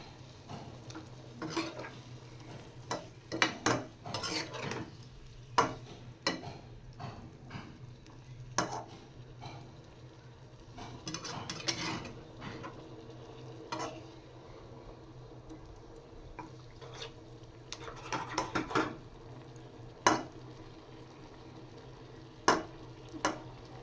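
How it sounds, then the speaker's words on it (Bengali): Onion-garlic paste simmers in a pan as added water boils off. Scattered small pops and ticks mix with occasional utensil clicks over a low, steady background, mostly quiet with irregular bursts. "জলটা ভালো করে ফুটিয়ে শুকিয়ে নেব।"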